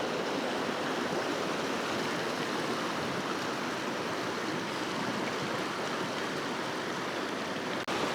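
A clear, cold mountain river at Chitkul rushes past with a loud, continuous roar of flowing water heard up close, steady throughout and with no voices.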